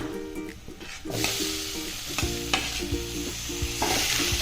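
Chopped tomatoes go into egg curry masala in a pan, and a loud close sizzle rises as a spoon stirs and scrapes in quick repeated strokes, with no talking.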